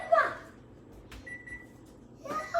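A kitchen timer gives a single short electronic beep, moderately loud and close, with brief bursts of talk just before and after it.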